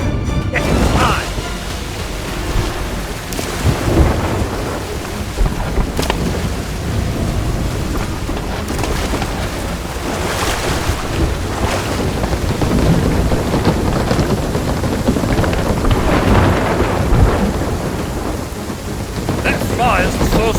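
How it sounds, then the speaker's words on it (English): Stormy weather in Sea of Thieves: dense, continuous rain with rumbling thunder rolls, loud and enveloping, swelling and fading over about twenty seconds with no speech. "Calypso's lightning cracked the spire."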